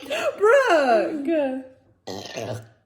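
A burp during a family burping challenge, a long rumbling voiced belch lasting over a second and a half, followed after a short gap by a second briefer burp, both close and loud.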